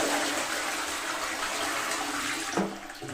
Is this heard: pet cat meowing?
no